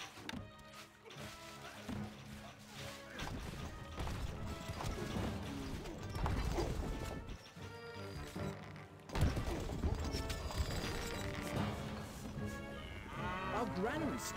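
A horse gallops in the medieval strategy game Stronghold: Crusader. Rapid hoofbeats clatter among crashes and battle noise, with voices speaking over parts of the busy mix.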